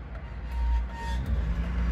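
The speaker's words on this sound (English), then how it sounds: "That Volvo V70's got some noisy brakes." A Volvo V70 with noisy brakes passing on a road, heard as a steady low rumble of the car going by with faint higher brake squeal tones, continuous and moderately close throughout.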